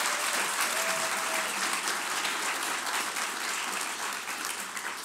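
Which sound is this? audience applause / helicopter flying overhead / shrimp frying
audience applause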